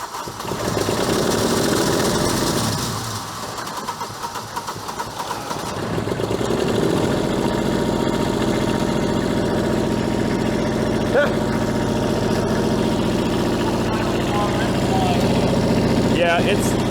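A piece of auction equipment's engine starts and idles unevenly, running a little rough, loud and steady at close range, with a voice speaking over it.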